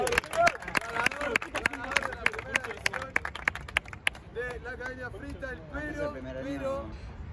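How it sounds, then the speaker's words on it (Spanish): A crowd at a freestyle rap battle final claps and cheers in sharp, scattered bursts for about four seconds before the applause dies away and a person speaks. "un fuerte aplauso"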